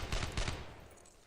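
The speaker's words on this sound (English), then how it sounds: "there's a machine gun up here" A short, close burst of rapid machine gun fire in the World War II shooter Brothers in Arms: Earned in Blood, several quick shots fading out within about a second.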